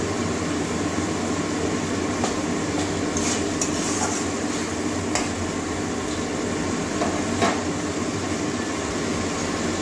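Steady sizzling and stirring as peas sauté in a pan, with occasional scraping clinks of a utensil against metal, continuous throughout with no talking.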